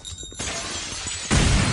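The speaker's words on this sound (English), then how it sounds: "I think that window shattered." A window breaks in Counter-Strike: Condition Zero Deleted Scenes, mission "Alamo": a loud, close burst of shattering glass with a bright crash and sustained scattering fragments, swelling louder near the end of the short clip.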